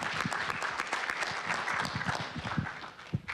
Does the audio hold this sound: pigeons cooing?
no